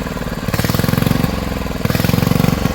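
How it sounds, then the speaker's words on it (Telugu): An engine that took a long time to start chugs with a steady rhythmic thumping, rising and surging in two loud stretches as it catches and runs. "చాలాసేపు కొట్టుకుంటూ స్టార్ట్ అయింది అది ఇంజన్"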